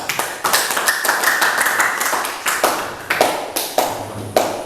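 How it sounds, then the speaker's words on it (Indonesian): A small group of people, likely classmates in a lesson, clap their hands together in a quick run of sharp, fairly close claps that comes in several uneven bursts with short gaps. "Oke, tepuk tangan."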